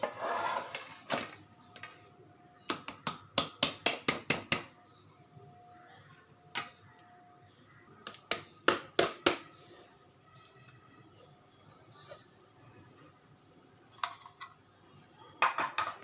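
Ghee Mysore pak being cut on a plate: close, crisp metallic taps and scrapes of a utensil against the plate, arriving in quick bursts separated by quieter pauses.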